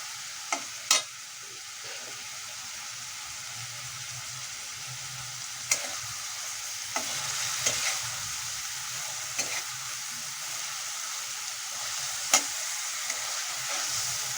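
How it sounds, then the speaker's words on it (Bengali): Tangra fish stir-fried in a pan, a steady loud sizzle running throughout with a few sharp spatter pops and utensil clicks scattered over it. "এই জন্য আমি মাছটাকে কষিয়ে নিচ্ছি ভালো করে।"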